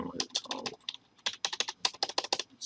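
Typing on a computer keyboard: rapid, uneven bursts of sharp key clicks at close range, with brief pauses between flurries, and a soft voice faintly underneath at the start.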